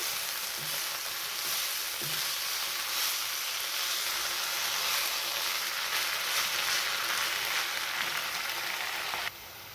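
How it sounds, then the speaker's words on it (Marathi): Fenugreek leaves being mixed into hot oil make a loud, continuous crackling sizzle like heavy rain, with a couple of soft stirring knocks early on. The sound drops slightly in the final half second. "आता ही मेथीची भाजी आपल्याला मिक्स करून घ्यायची आहे"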